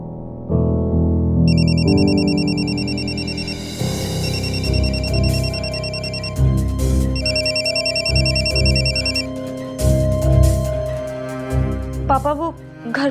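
A telephone rings with a repeating electronic ringtone after a call is placed, steady and fairly loud, layered over background music in a Hindi crime drama scene.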